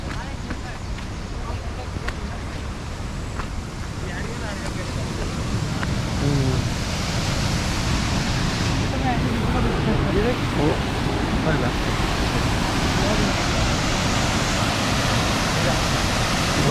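Jhanalia waterfall in Cherrapunji, Meghalaya, gives a constant broad rushing roar close by, steady throughout, with faint indistinct voices mixed in.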